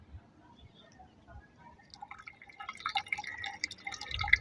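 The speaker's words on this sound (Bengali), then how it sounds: "ছাদের এই কলটা দিয়ে না বেশি জল পড়ে না, অল্প অল্প জল পড়ে।" Water from a rooftop tap trickling slowly into a bucket, a faint, quiet drip and splash that grows a little louder and busier toward the end.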